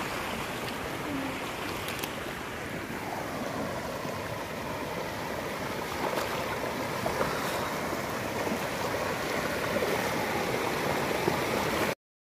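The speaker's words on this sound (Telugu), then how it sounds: "వాటర్ చూడండి ఎలా పారేస్తుందో." Floodwater rushes steadily across farm fields during a big flood at Srirangapatnam, a continuous broad roar of flowing water heard alone and close, with no voices.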